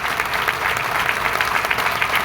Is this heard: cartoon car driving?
no